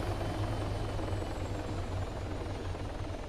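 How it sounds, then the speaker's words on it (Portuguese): A helicopter's steady rotor thump in ArmA 3 drones throughout, fairly loud and constant, with no voices over it. "Um helicóptero ali atrás."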